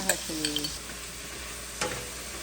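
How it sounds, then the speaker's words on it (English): Vegetables stir-fried with garlic, soy sauce, chili flakes and Lao Gan Ma chili paste in a pan, a soft background sizzle with a few quick scraping stirs, faint and brief. "Give it a final stir"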